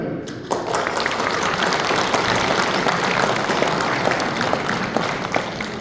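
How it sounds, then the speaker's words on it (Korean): A hall full of people at a national convention of a Korean Presbyterian men's fellowship bursts into loud, continuous applause that starts sharply and holds steady to the end. "모두를 환영하며 박수를 보냅니다"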